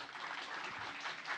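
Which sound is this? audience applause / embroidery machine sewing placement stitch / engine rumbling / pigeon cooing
audience applause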